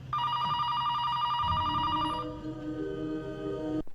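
A telephone rings repeatedly in a house in the 1997 horror film Scream 2, its bright electronic trill steady and loud, then giving way to a lower tone and room sounds before cutting off sharply.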